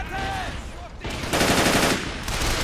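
Machine gun fire rattles in dense, continuous bursts during a Men of War: Assault Squad battle between German and Soviet forces in 1941, loud and close, with sustained volleys and no pauses between them.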